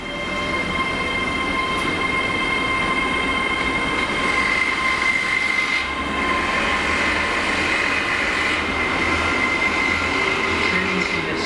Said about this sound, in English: it's at the train now approaching platform 3